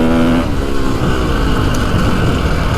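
A new Ducati 450 Desmo 450MX motocross bike's engine revs loud and close, climbing to a high-pitched whine, then holding a rough, buzzing roar.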